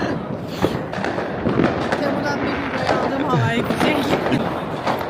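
Street fireworks on New Year's Eve in Germany crackle and bang repeatedly, with dense bursts and thuds both near and distant amid crowd noise and people talking.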